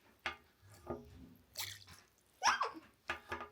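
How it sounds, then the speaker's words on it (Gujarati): Water spills and splashes onto an indoor floor in a few short, scattered bursts, fairly close and quiet, with no voices. "પાણી નીચે નાખી ગયું."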